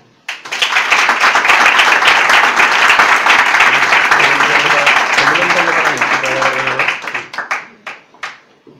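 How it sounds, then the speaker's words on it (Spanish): Conference audience at a 30th-anniversary congress applauding loudly and steadily for several seconds, the clapping tapering off into scattered claps as a voice begins near the end. "Un aplauso para él."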